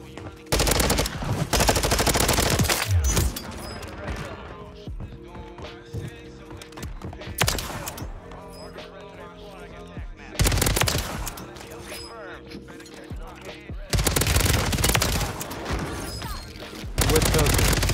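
Repeated bursts of rapid video game gunfire, several loud clusters of shots separated by quieter stretches of game sound, with a fast-movement shooter setting and no talk over the shots.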